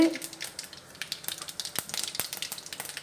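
Mustard seeds and urad dal sizzle in hot oil in a pan, a close, busy crackle of rapid pops and spits that grows denser as it goes.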